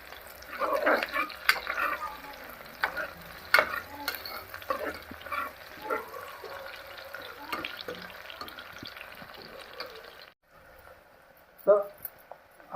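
Onions sizzle and fry in a pan for Telugu-style mutton curry, with stirring scrapes and clinks throughout, a brief pause near the end, then more stirring.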